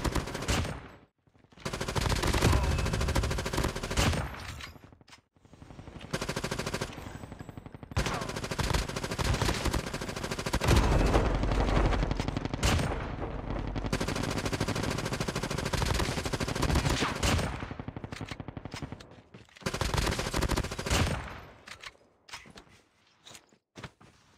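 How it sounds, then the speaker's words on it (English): Rapid automatic bursts from a CDRA-4 submachine gun in Call of Duty Mobile, loud and repeated, broken by short quiet gaps and a few footsteps. "In top 3 we have CDRA-4, one of the best SMGs in the game, very good for Alcatraz."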